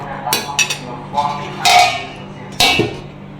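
Chicken curry gets served from the pot with a spoon, bringing several sharp clinks and clatters of metal and dishes, loud and close with brief pauses between.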